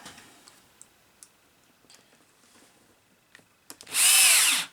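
A cordless screwdriver with cheap bits driving screws into an RC buggy roll cage, a few faint ticks and clicks and then a sudden loud whirring burst near the end, close by.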